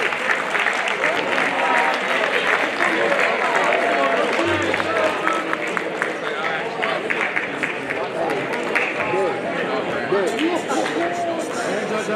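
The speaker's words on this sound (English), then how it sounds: "Y'all give them a round of applause." An audience applauds a band at a Woodson Institute event, a steady, dense wash of clapping mixed with crowd chatter and cheering that holds at an even level for about twelve seconds.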